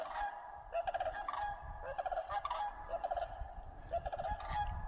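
Repeated rattling, trumpeting sandhill crane calls come in bursts of several notes, moderately distant over a low outdoor rumble, in Caribou, British Columbia.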